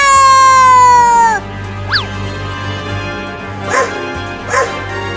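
A long sustained tone cuts off, then a dog gives a few short, sharp barks, spaced apart and fairly close.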